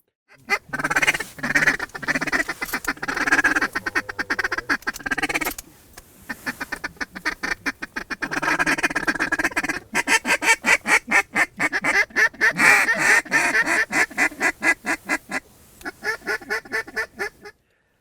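A duck call blows a feeding chuckle imitating ducks, with rapid rhythmic bursts of staccato quacking notes broken by short pauses, loud and close throughout.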